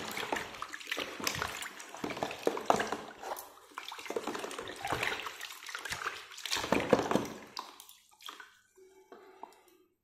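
Old artificial flowers are washed in water that was softened with hot water, giving close sloshing, splashing and dripping that comes in irregular bursts and fades to faint drips at the end.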